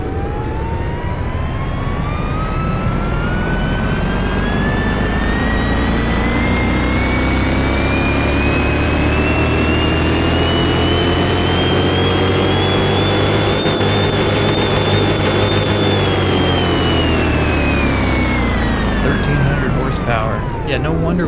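A 1300-horsepower car engine in Car Mechanic Simulator 2021 revs hard on a dyno, one long loud climbing wail that holds high, then falls off near the end, with a voice talking over it.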